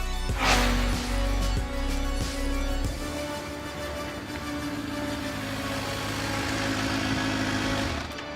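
A Kawasaki engine idles slowly through a no-wake zone at Antelope Point, past rows of houseboats and jet skis. The low, steady rumble stays close and even, louder at first, then settles into a constant hum with no talking.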